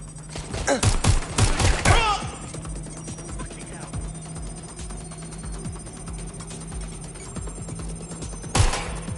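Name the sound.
gunfire from the video game Watch Dogs Legion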